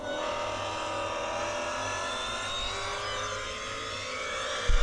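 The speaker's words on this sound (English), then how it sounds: "let's watch video of me just driving my car really fast" Sports car engine roaring steadily at high speed while driving fast, a loud sustained engine drone with rising whine, with a heavy burst at the very end.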